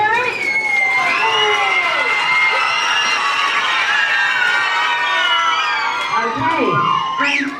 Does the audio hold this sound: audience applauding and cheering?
yes